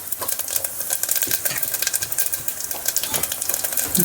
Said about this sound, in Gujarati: જીરું નાખું અને હિંગ નાખીશું એક ચમચી